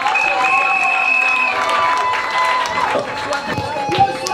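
A crowd at a customary wedding ceremony applauds and cheers, with steady clapping and some voices. A sustained tone runs over the noise early on, and the applause continues at a fairly even level.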